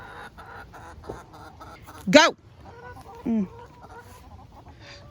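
Backyard chickens being herded into their coop at night, giving a couple of brief clucks and squawks close by while a woman quietly urges them along.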